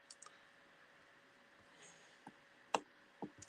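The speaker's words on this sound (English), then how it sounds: "Oh, clicking the wrong thing." Computer mouse clicks at a desk, a few sharp isolated clicks scattered across a quiet stretch, the last ones louder and closer together.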